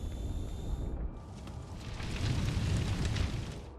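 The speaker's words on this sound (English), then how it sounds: "This leads to a massive explosion." A deep, rumbling explosion of a UR-77 vehicle's charges after a drone strike and fire roars and swells, heavy low booms rolling on for several seconds after a brief quieter lead-in.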